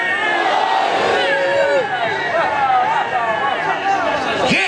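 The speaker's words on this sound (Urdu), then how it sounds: "سارے مل کے بولو علی شہنشاہ، علی شہنشاہ" A crowd at a religious gathering in an imambargah chants the slogan 'Ali Shahanshah' together, a dense roar of many voices sustained throughout, loud and close with shouted rising tones.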